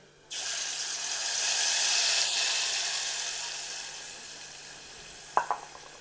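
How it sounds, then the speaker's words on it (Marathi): Sabudana khichdi mixture hits hot oil with a sudden loud sizzle that holds as a steady hiss and slowly fades, ending with a couple of stirring clunks. "तेल गरम झाल्यामुळं आपलं हे मिश्रण पहिलं त्यात टाकायचं तर तुम्हाला आता दिसन टाकल्यावर कसा आवाज येतोय"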